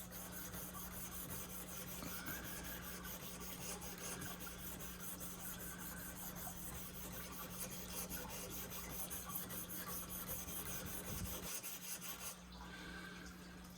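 A pocket knife blade is sharpened on a Worksharp Precision Pro, giving a steady, quiet rasping rub of steel on abrasive that continues evenly throughout with a faint background hum.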